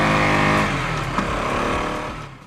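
A KTM Duke 200 motorcycle engine revs loudly close by, one sustained high rev that gradually falls away and fades near the end, with no talking.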